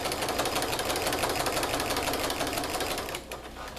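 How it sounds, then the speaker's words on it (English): A sewing machine stitches fabric for a soft book along a marked seam line, a steady rapid mechanical whirr running continuously close up, easing off slightly near the end. "now I'm just going to sew along following that dark line or a 1/4 inch seam if that's what you're using."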